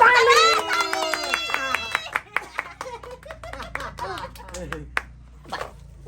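Hands clapping at a home birthday party, a brief burst of claps followed by scattered single claps and snaps, with voices chattering around them.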